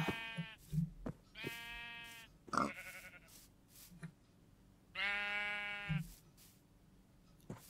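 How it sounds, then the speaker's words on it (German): Three bleats from sheep in the video game Minecraft, each a nasal, drawn-out cry standing out clearly against a quiet background with a few soft clicks between them. "Hier sind jede Menge Schafe."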